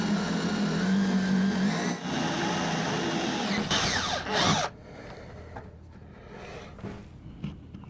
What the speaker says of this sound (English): let the drilling begin